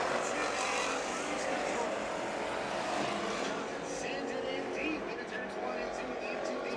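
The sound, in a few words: American stock cars racing on a dirt speedway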